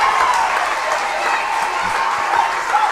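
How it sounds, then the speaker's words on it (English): A crowd at Marvel Park gives a standing ovation at a high school football game, sustained loud applause with scattered cheering that fills the whole moment and barely fades. "Crowd here at Marvel Park giving the kids a standing ovation for their effort"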